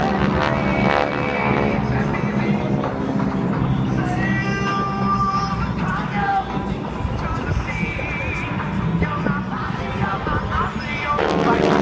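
Military aircraft flying over a naval air station during a flight demonstration, a steady loud engine roar sustained throughout with shifting tones, while a voice talks over it.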